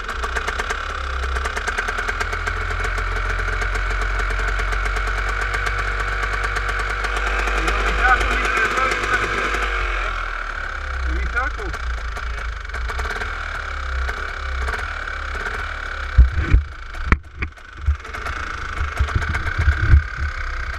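A Honda Pilot engine running with a steady low rumble and drone for several seconds, then shifting and fading under louder knocks and clatter near the end, with people talking briefly.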